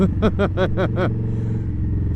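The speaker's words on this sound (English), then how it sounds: "She now has a 2-to-1 combat Shorty exhaust from Freedom Performance" An Indian Scout Bobber V-twin with a Freedom Performance 2-1 Combat Shorty exhaust, nearby and loud, pulsing in about six quick throttle blips before settling into a steady, deep idling rumble.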